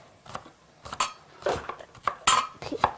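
A knife chops fresh ginger on a cutting board in a home kitchen, giving about eight sharp, separate knocks at an uneven rhythm, close and clear, with no voices.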